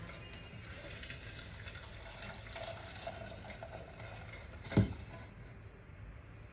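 Hot besan halwa mixture pours from a kadai through a strainer into a bowl, a soft continuous liquid trickle and patter, fairly faint, with one brief knock near the end.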